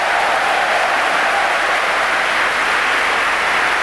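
Crowd applause fills a football stadium at half-time in a Leeds United versus Swindon Town match, a steady, loud, continuous roar of clapping with no break.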